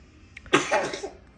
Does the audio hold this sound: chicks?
no